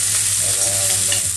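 Spicy honey chicken afritada sizzles loudly in a pan while being stirred, a brief, close, continuous hiss with a low hum underneath.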